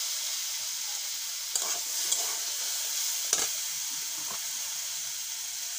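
Water hyacinth greens and eggplant frying in a pan give a steady sizzle and hiss with a few brief stirring scrapes and clinks, heard close and alone.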